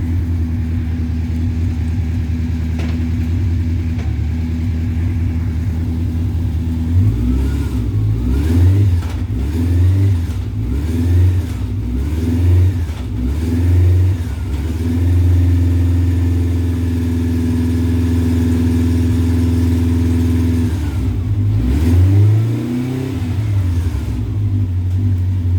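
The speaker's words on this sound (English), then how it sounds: "What I wanted to do was just run it through the gears and show you the tachometer works" Honda CB700SC Nighthawk motorcycle engine idling, then revving up and down repeatedly through the gears in close, loud rising and falling sweeps, settling back to a steady idle before a final rev.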